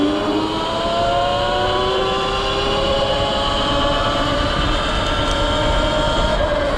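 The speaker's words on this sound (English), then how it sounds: "Front brake makes a funny noise now." Front brake squealing on a Sur-Ron X electric dirt bike while riding: thin, wavering high-pitched tones glide and bend continuously over steady rolling noise, loud and close for several seconds.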